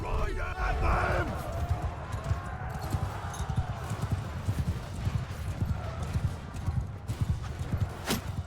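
Cavalry horses galloping in the battle game Bannerlord, a rush of many hooves thudding in quick uneven clusters with a whinny early on, mixed with shouted battle voices and distant clamor.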